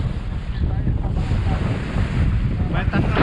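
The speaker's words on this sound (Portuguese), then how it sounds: "Passou um ventinho aí, mas já tá ficando legal o vento." Strong sea wind buffets a fishing boat out on the open ocean, a steady rushing roar with microphone gusts and the wash of waves, continuous and loud for a few seconds with no speech.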